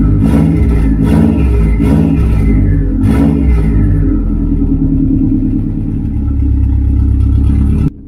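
A Subaru STI with an EJ25 engine and its exhaust cutout open idles roughly while still cold, with a deep, choppy exhaust rumble, pulsing with a few revs early on before settling into a steady throb.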